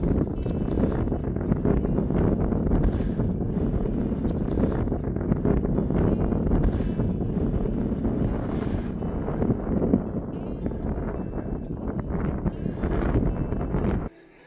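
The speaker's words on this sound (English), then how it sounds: "you manage to get out of the wind with the cairn blocking it" Strong wind blasts across a Scottish mountain summit near a stone cairn in Glen Lyon, a loud continuous roaring buffet against the microphone that holds steady throughout before cutting off abruptly.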